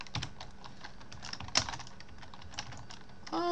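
Someone types on a computer keyboard in steady, close key clicks with one sharper tap midway and a heavier clack at the end, no voice.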